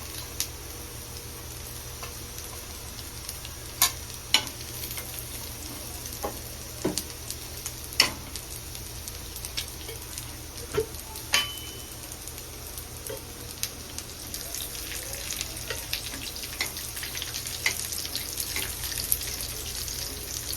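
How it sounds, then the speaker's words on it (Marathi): Grated coconut roasts in a pan for a spicy trotters curry, giving a quiet steady sizzle broken by scattered clicks and scrapes of stirring, close up and with no voices. "टाकते खोबरं भाजायला टाकते"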